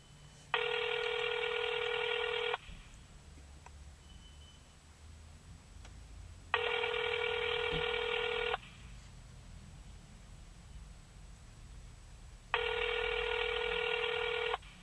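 Three identical two-second bursts of a steady electronic ringback tone, evenly spaced with quiet gaps, from a call placed to a cell phone that is left to ring.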